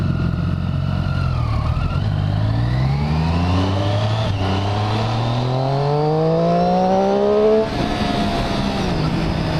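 A motorcycle engine heard while riding, loud and close, its pitch climbing through the gears in repeated rising sweeps with brief drops between shifts, over steady wind rush.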